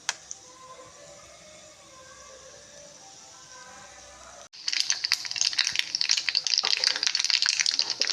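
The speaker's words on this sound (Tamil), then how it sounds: "லைட்டாக கடுகு போட்டுங்கம்மா. லைட்டாக வெந்தயம் போட்டுங்கம்மா." Mustard seeds and fenugreek tempering in hot oil for rasam: a quiet stretch, then a sudden loud crackling sizzle that keeps spitting and popping close by.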